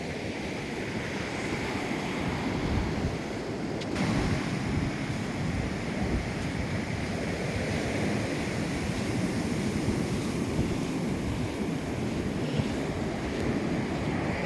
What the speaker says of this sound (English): waves are steadily coming on in